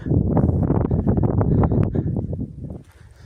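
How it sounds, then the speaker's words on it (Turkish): Strong wind buffets the microphone outdoors with heavy, gusty rumbling that eases toward the end. "Çok rüzgar var."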